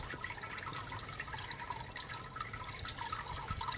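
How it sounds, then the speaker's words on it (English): Water from a garden pond flows over the weir of a homemade skimmer, a steady, soft trickle and splash that holds an even level throughout. "it's just starting to flow over the top of the weir"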